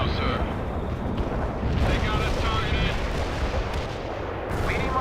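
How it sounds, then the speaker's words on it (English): Artillery shells exploding in the World in Conflict war game: a continuous heavy rumble of overlapping booms and blasts, loud and close, with voices talking faintly beneath the battlefield noise. "Perfect artillery hit"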